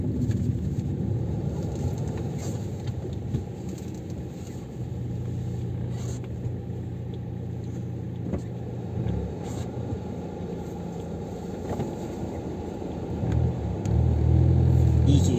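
Rush-hour city road traffic around 5 pm in Kastamonu, Turkey, heard from inside a car as a continuous low engine rumble with passing vehicles and occasional revving, growing louder near the end.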